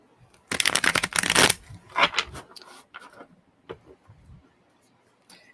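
A deck of cards is riffled in a quick, crisp burst, followed by a few softer taps and shuffling sounds, close up and otherwise quiet.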